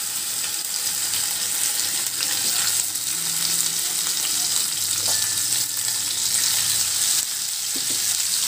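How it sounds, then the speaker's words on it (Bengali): Fish fries in hot oil in a pan on a gas stove in a home kitchen, giving a steady, loud sizzle and crackle throughout with faint clinks of a utensil, no talking. "দেখো আমার মাছটা ভাজা হয়ে গেছে, উল্টে দিয়ে দিয়েছি"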